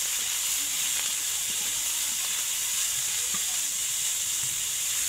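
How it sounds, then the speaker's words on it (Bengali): Chopped garlic and onion frying in a pan for a puti fish chorchori, a steady, even sizzle and hiss held throughout at moderate level with no one speaking. "এখন রসুন কুচি আর পেঁয়াজ কুচি দিয়ে ভালোভাবে ভেজে নিতে হবে।"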